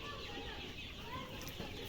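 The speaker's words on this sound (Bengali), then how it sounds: "উনি সোনালী মুরগি আর ফার্মি মুরগি মিক্স করে উঠেছে" Sonali and white layer chickens on a small village poultry farm, soft clucking and low fowl calls heard faintly at a distance over a quiet background hum.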